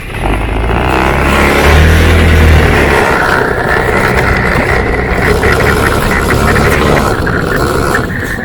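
A motorcycle rides off along farm tracks toward the fields, its engine a loud, continuous, close drone mixed with rushing wind and mechanical rattle, and no voices.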